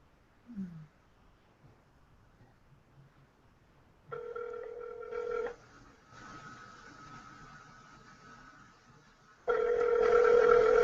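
A cell phone call rings and connects with electronic tones, first a steady tone burst, then a longer sustained tone, then a louder ringing tone at the end, with no voices.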